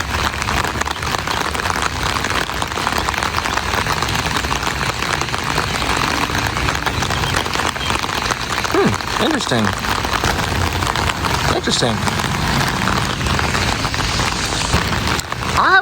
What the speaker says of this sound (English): the rain's so loud